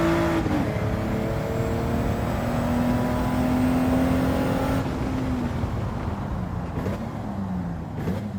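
A 1991 Mitsubishi GTO twin turbo in a racing video game holds a loud, steady engine drone with rising pitch as it accelerates, then eases off with a brief lift and slight dip in tone near the end.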